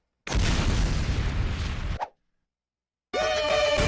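A Team Fortress 2 explosion bursts out as a loud, dense roar lasting under two seconds and ending abruptly. A pause of silence follows, then a new tonal game sound starts.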